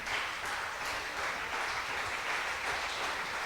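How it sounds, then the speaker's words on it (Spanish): Church congregation clapping, a continuous, even roar of many hands close at hand, filling the whole stretch without voices. "Dese un fuerte aplauso"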